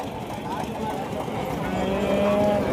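Native Kangeyam cattle at a busy livestock market, with several moos rising over a dense crowd murmur, a long drawn-out low call standing out near the end.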